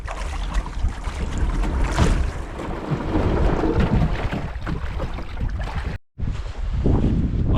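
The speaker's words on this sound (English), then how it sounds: "So I just got to wade the canoe up the brook a little farther here now" A canoe waded up a brook in the wilderness, with water splashing and rushing in a loud, continuous churn broken by bursts of sloshing and knocking, plus a brief dropout near the end.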